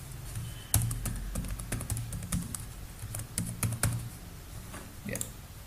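Soft, close clicks of a computer keyboard as a password is typed, an irregular run of quiet key taps with no speech.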